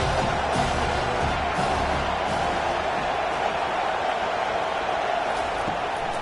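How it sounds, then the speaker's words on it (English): Home stadium crowd in College Football 25 roaring steadily as the defense faces third down, a dense, sustained wash of cheering that swells slightly, with a game commentator's voice faintly over it. "Here comes this home crowd as the defense tries to get off the field on third down."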